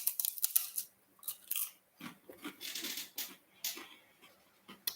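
Crisp bites and crunchy chewing of a thin corn cake, similar to a rice cake, in a series of sharp crackling bursts up close, with short pauses between mouthfuls.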